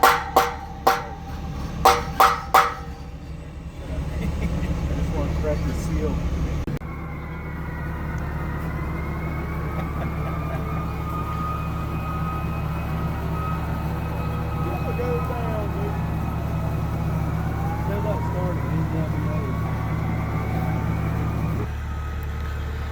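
A few sharp knocks at the start, then a steady low rumble with many faint, wavering sirens wailing far off for most of the clip, during storm water and sewer work.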